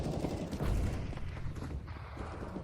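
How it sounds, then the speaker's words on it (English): Grenades bursting during a Counter-Strike match on the Inferno map, heard as a dense cluster of muffled booms and crackling impacts in the first second that thins into rumbling game noise. "First line of grenades have been used for NAVi."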